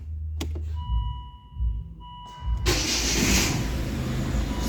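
A Volvo V50 MK1 with the D4164T diesel engine, suffering intermittent stalling from a crankshaft sensor connector fault, cranks briefly after warning chimes and then catches and runs loudly and steadily.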